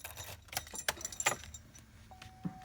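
Keys jangle and clink in a 2006 Chevy Colorado pickup as they are handled and turned in the ignition, a cluster of sharp metallic rattles followed by a faint warning chime, close up with no talking.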